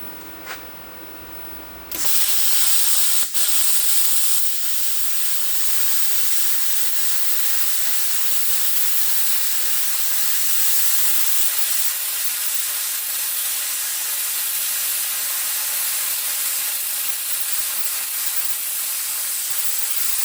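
A Bestarc BTC 500DP plasma cutter cuts rusty plate. After a short, quieter lead-in, a loud, steady hissing roar of the cutting arc starts abruptly and holds evenly for the rest of the clip.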